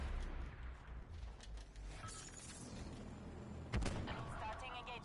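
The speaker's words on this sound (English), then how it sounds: "Sniper's nest destroyed by enemy forces" Distant gunfire and explosions in a shooter game as a sniper's nest is destroyed, muffled and quiet, with one sharper blast past the middle and a voice talking over it.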